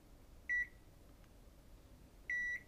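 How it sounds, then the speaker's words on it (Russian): An AN870 multimeter in electric field detector mode, held near a 220-volt wire, gives short electronic beeps: one brief beep, a pause, then a longer beep followed by another start, over faint background hiss. "И возле него он начинает пищать в зависимости от того, насколько он близко"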